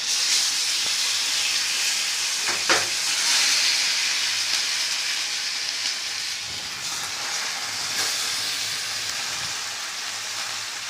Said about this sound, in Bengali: পিঠে ভাজা হচ্ছে।